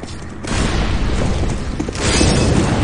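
A loud, rumbling grenade or flashbang blast in a first-person shooter video game, a sustained roar with a second surge of noise near the end.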